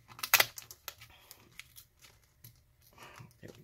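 Strong adhesive being peeled up from inside a Lenovo ThinkPad T480S laptop during disassembly, heard as a short series of close crinkling, tearing crackles with quiet gaps between them.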